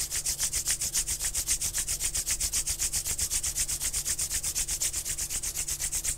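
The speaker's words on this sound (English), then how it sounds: "Slowly rub your palms." Palms rubbing together steadily in a guided relaxation exercise, a fast even back-and-forth swishing repeated many times, close and continuous with no talking.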